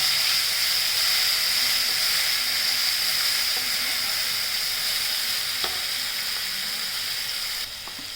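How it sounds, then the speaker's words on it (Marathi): Green masala paste of ground coriander, green chilli and garlic sautés in hot oil, a steady close sizzle and hiss running unbroken throughout with no voices. "हे वाटून घेतलेला मसाला हिरवा वाटण, त्याच्यात आहे कोथिंबीर, हिरवी मिरची आणि लसूण। हा थोडा तेलात परतून घ्यायचा।"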